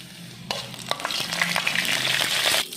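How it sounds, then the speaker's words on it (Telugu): Cumin, mustard seeds and dried red chillies dropped into hot oil in a kadai, a sudden crackle that swells into a loud, busy sizzle with popping seeds before cutting off, no speech. "ఆయిల్ జీలకర్ర ఆవాలు వేసుకోవాలి కొద్దిగా లైట్గా"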